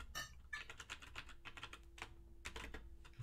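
Quick bursts of typing on a computer keyboard, close and quiet. Key clicks come in uneven clusters with short pauses, and no voices are heard.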